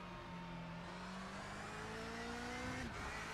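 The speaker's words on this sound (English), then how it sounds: "You can hear him onto the brakes." A race car drops through its gears under braking into a final corner, the engine note sliding down in steady steps over a continuous loud mechanical roar with no voices.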